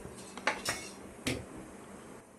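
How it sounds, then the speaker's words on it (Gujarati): A metal kadhai set down on a gas stove, a few sharp clanks and scrapes of metal on metal close by, then a quiet hum; no voices. "એની જ કઢાઈ મૂકી દીધી છે"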